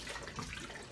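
Tap water runs steadily into a kitchen sink while water bottles are washed, a continuous close splashing stream with no talk.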